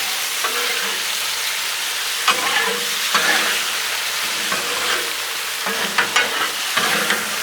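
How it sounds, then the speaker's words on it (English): Steak and shrimp sear on a Blackstone griddle with a loud, constant sizzle, broken by scraping and stirring clatters of a spatula moving the food around. "Let's get it out here and get everything seared into it now."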